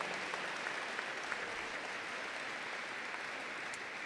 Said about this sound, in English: student athletes, give yourselves a round of applause for an incredible year in Santa Fe Prep athletics